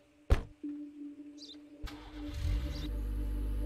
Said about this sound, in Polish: teraz przy wejściu można klawiszem G odpalić silnik